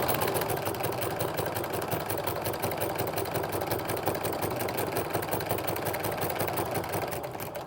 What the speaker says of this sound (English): is to stitch right down where this binding is meeting our actual placemat